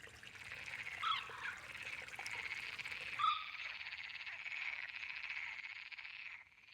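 Male green frogs calling to females among reeds: a continuous chorus of buzzing, croaking calls at moderate distance with a trickle of water, one sharper call standing out midway, no voices.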